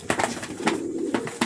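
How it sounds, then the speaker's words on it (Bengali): A pair of pigeons, one male and one female, coo in a steady low throaty murmur, close and fairly clear, with brief soft knocks and rustles. "পায়রা দুটো চলে যাচ্ছে নতুন বাড়ির সন্ধানে।"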